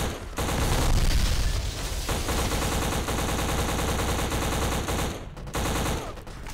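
Sustained automatic gunfire in the shooter video game Black, dense rapid bursts running almost continuously with brief pauses near the end, loud and with no talking.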